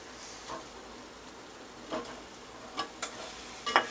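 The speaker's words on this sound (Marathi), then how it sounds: "आता ह्यात थोडंसं आपण परतून घेऊया या मसाल्यामध्ये।" Eggs tossed in spicy Kolhapuri masala in a hot pan, a steady low sizzle with a spoon scraping and stirring, a few sharper clicks and scrapes near the end, close and without talk.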